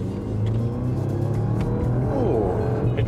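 A 2021 Jaguar XF P300 engine rumbles low and steady, then its pitch climbs as it accelerates hard from 0 to 100, sounding close and continuous.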